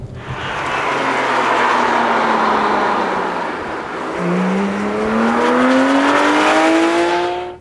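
A Porsche GT3 sports car engine while driving, a loud, close, continuous drone that climbs steadily in pitch through the gears, with a brief dip midway before it rises again.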